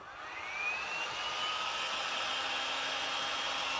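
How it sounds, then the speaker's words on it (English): A heat gun blowing hot air over wet paint on a wooden apothecary box, a steady loud whooshing whir that rises as it starts and then holds constant, with no talking. "Let's turn on the heat gun."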